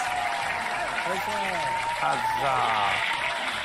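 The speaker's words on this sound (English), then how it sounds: "Oh, in that case, then applause." Steady applause from a small group on a live show runs throughout, with a voice cheering loudly over the clapping.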